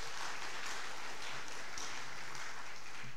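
An audience applauds at a commemorative speech ceremony, a dense, steady clatter of many hands clapping for about three seconds, fairly loud and without talk.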